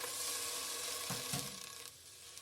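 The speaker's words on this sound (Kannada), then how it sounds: "ಅವರೆಕಾಳು ಹಾಕ್ತಾಯಿದ್ದೀನಿ" Avarekalu, fresh hyacinth beans, hit a hot pan and sizzle steadily with a bright hiss and a couple of stirring scrapes, close and alone without talk.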